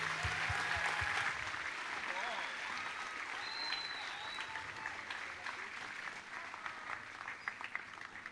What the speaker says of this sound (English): Could we have a round of applause for our student?